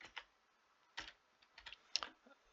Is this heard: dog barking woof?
no